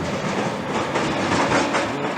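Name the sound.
small fairground push-up train ride on rails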